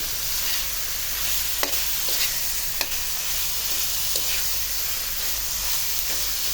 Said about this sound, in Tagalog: ng pamintang durog para mas masarap. Haluin natin.